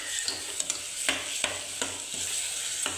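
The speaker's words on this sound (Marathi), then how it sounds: "हे आता मिक्स करून घेऊ." Rice with turmeric powder and salt is stirred in a pot. A spoon scrapes it in repeated, evenly spaced strokes over a steady low sizzle, with no talking.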